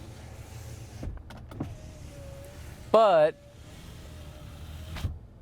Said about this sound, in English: The windows are not one touch. They are one continuous touch.